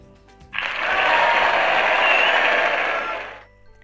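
A burst of applause swells in abruptly, holds as a dense even wash of clapping for about three seconds, then fades out cleanly.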